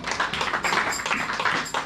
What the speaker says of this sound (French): Ça c'est vraiment l'acclamation pour Jésus